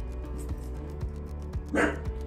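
A dog at home lets out a single short bark near the end, fairly close, over a steady low indoor hum with faint soft ticks and no talk.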